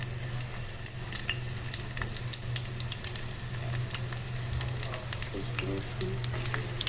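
Hot mustard oil frying in a pan, a fairly quiet, even sizzle with scattered crackles and a low steady hum underneath, no voices.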